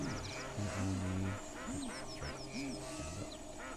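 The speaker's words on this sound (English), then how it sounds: "And that is the bird sanctuary for TLC." Ducks and other water birds at a bird sanctuary quack repeatedly and loudly, with honks and higher bird calls mixed in, close by throughout.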